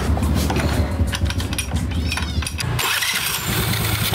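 A Honda Navi scooter fitted with upgraded CVT flyballs and springs starts up and runs close by, a buzzing mid-pitched engine note that rises before settling into a steadier, brighter drone.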